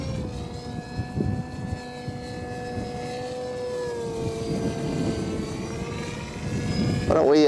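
FinWing Penguin FPV model plane in flight, its electric propeller droning steadily with tones that gradually bend in pitch and swell louder near the end, while people talk over it.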